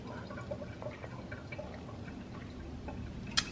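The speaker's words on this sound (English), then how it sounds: "I'm gonna fill up this bottle to take with me." A water bottle fills from a tap, a low steady gurgling stream with faint drips, moderately quiet and without talk until a brief clatter at the end.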